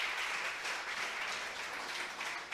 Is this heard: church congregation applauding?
yes